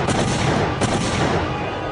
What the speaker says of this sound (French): On entend des coups de feu